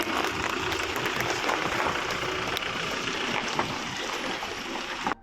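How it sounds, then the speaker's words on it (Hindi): Crowd at a road safety month inauguration breaking into loud, continuous applause as a publicity vehicle is sent off, a thick unbroken wash of clapping that holds for about five seconds then cuts off abruptly. "जोरदार तालियों के साथ स्वागत करें।"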